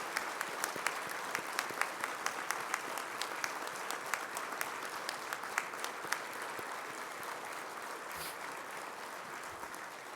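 A large dinner crowd at a correctional peace officers' memorial gathering gives survivors and families a long round of applause, dense and steady with sharp individual claps standing out, close and loud, tapering slightly near the end.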